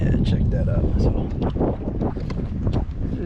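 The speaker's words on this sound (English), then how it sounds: "it's pretty windy out here." Wind gusts buffet a boat on Florida backwaters, a steady heavy rumble of wind noise on the microphone with faint rattles and knocks from the boat throughout.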